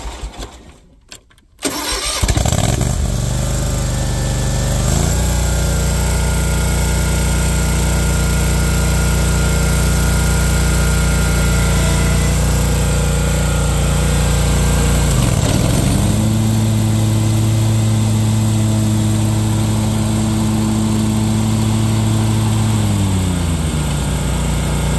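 A Hustler Raptor SD zero-turn mower engine cranks, catches and settles into a loud, steady drone at half throttle, close up, its pitch shifting briefly midway before holding even.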